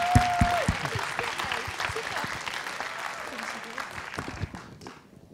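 Audience applause at a children's recitation contest finale in Limburg: sustained clapping from a hall crowd that starts strong after a short tone and gradually thins and fades out over several seconds.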